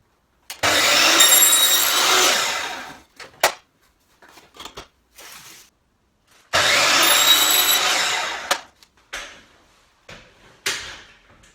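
A handsaw cuts through a length of coving for a butt joint, two bursts of rapid rasping strokes with brief knocks and handling sounds between them, close and loud with no talk.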